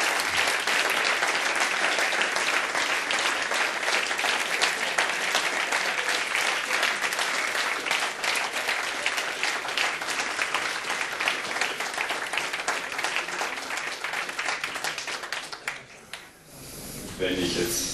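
A large audience claps loudly and continuously at a science pub talk, a thick wash of applause that holds for a long stretch, then tapers off and briefly picks up again.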